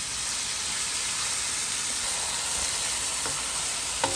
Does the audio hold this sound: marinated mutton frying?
yes